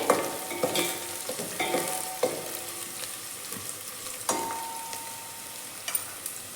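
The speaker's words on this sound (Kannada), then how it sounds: "ಫ್ರೈ ಮಾಡ್ಕೊಳ್ಳಿ ಈರುಳ್ಳಿನ ಇವಾಗ ನೋಡಿ ಫ್ರೆಂಡ್ಸ್ ಈರುಳ್ಳಿ ಕಲರ್ ಚೇಂಜ್ ಆಗಿದೆ" Onions fry in a pan for a horse gram stir-fry, a steady close sizzle broken by repeated scraping stirs of a spatula, with no voices over it.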